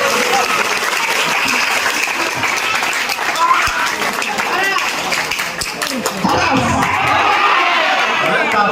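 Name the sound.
applause from an audience at a school event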